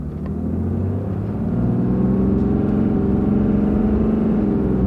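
A big diesel work pickup truck's engine rumbles low and steady, revving up as it accelerates with barely audible shifts, loud and close with no talking.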